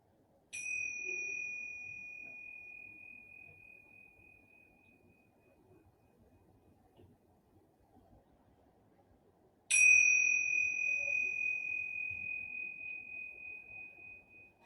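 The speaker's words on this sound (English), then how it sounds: "I'm going to ring these bells 3 times." Bell tones struck during a relaxing yoga session, two clear rings each leaving a long, slowly fading shimmer over a quiet room.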